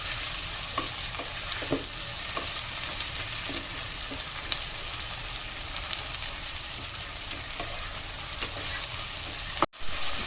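Tomatoes and prawns sizzle steadily in a pan, with occasional scrapes of a spoon as they are stirred, and a sharp knock near the end.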